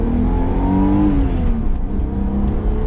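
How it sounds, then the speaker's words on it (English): A 1982 BMW 633csi E24 engine revs up through first gear toward redline, pitch rising steadily and then easing off, loud and close with no talking. "So let's see, first gear all the way to red line."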